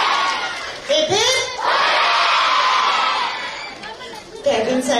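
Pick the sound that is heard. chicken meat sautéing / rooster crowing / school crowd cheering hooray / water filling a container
school crowd cheering hooray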